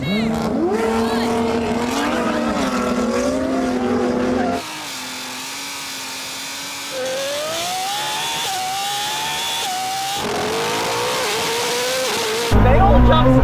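A Koenigsegg Jesko, a Lamborghini Revuelto and a 1,000 hp BMW M3 launch in a drag race, their engines screaming and rising through gears with shifting pitch, loud and sustained, ending on a sudden blast of wind or engine roar.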